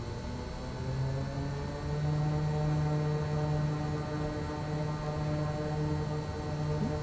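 A Kodiak 100 turboprop engine at takeoff power in Microsoft Flight Simulator, a steady loud droning propeller roar with a sustained whining hum that holds even throughout, alone with no voices.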